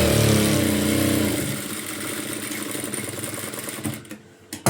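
A tailor's sewing machine runs stitching a blouse, a steady, loud mechanical whir for most of the stretch, then it slows and stops with brief handling clicks near the end.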